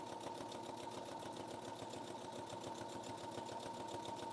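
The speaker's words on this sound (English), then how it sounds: "Let's sew down the bias tape," A sewing machine stitching bias tape down onto an apron, a continuous, even mechanical whir with a rapid needle rhythm, steady and moderately quiet throughout, with no talking.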